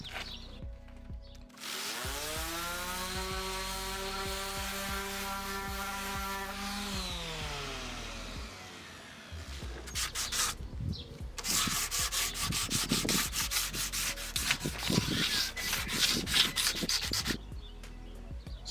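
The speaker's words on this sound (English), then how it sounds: "Also going to wet sand these." Sandpaper of 120 grit is rubbed by hand against a wet sailboat hull repair, giving a close scraping rasp in quick back-and-forth strokes after an earlier steady motorized whine that rises in pitch.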